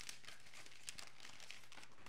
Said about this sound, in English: We're going to just put all of these seed packets in here.